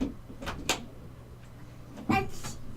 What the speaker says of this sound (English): My kid just hit the door.